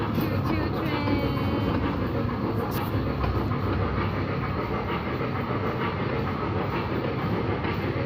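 Amusement park choo choo train ride at IMG World Dubai, giving a steady, loud rumble with rhythmic clickety-clack throughout and no clear speech.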